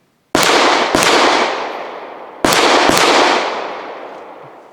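A Sarsilmaz ST9 pistol firing SIG 115 grain ammunition, four loud sharp shots in two quick pairs, each leaving a long echoing decay outdoors with no talking.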